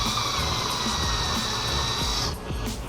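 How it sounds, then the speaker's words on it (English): A power drill whines continuously at high speed, close and loud, drilling into a Nissan 350Z's polyurethane bumper, its pitch steady until it winds down near the end. "Just more drilling."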